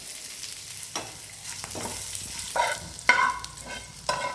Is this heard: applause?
no